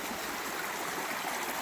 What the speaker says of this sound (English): Nice little stream here. We've had a lot of rain. That's why this is actually running.